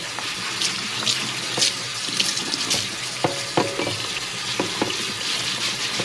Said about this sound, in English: And wash our cutting board